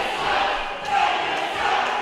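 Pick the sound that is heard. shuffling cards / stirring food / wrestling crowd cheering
wrestling crowd cheering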